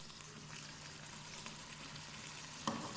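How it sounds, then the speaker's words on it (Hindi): Small diced potatoes frying in a spiced masala in a pan, a soft, steady, fairly faint sizzle with a single sharp stirring clink near the end. "आलू को हमने अच्छी तरीके से भून लिया"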